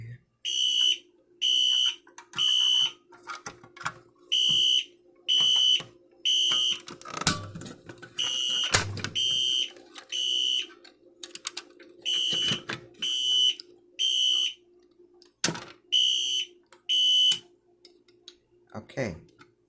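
A wall-mounted fire alarm system under test pulses in repeated high electronic bursts with short gaps, interrupted by clicks and thumps, while people talk quietly nearby.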